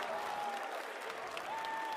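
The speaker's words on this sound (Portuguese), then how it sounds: "o torcedor da Liquid tá aplaudindo?" Esports crowd of Team Liquid fans applauding at a match, a brief, fairly faint wash of clapping with a faint crowd murmur beneath.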